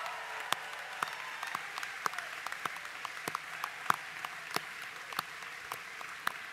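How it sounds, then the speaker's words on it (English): Scattered applause from a modest crowd at a graduation ceremony, uneven claps with a few sharp individual hits standing out, continuing steadily. "let's give them a round of applause"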